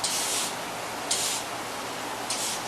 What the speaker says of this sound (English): Okay, so I got my spray bottle just to